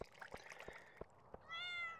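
A cat in the farming video game Stardew Valley gives a single short, clear meow at the end, preceded by soft clicks and faint game sounds, with no speech.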